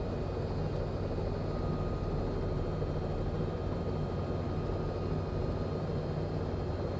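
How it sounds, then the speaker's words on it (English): A CowanSim R66 helicopter engine in Microsoft Flight Simulator lifts off with a steady, dense, continuous turbine and rotor drone, loud and unchanging, with no talking. "The engine torque creeps up, and the helicopter will get light on its skids"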